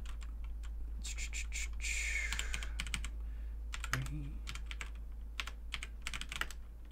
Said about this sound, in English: Oops, I am not typing in the right search engine right now.